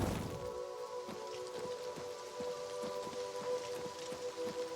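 Steady rain falls outdoors in the video game Oblivion Remastered, a soft continuous patter with faint drips, and a low musical drone sits beneath it throughout.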